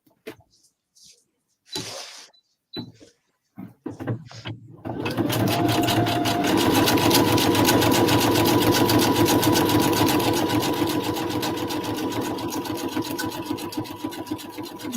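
A sewing machine stitches a zigzag, starting after a few sparse clicks and handling sounds, then running as a steady rapid mechanical chatter, close and loud, for about ten seconds.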